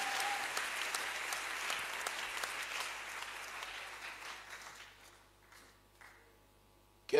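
A church congregation applauds together in a sustained burst of clapping that thins out and fades after about five seconds, ending with a short sharp noise.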